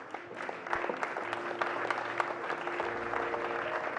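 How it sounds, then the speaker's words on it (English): Audience applause for the 2019 National Science and Maths Quiz trophy presentation, a steady wash of clapping from a large crowd that holds even and sustained throughout, with a faint voice beneath. "Let's keep that applause going."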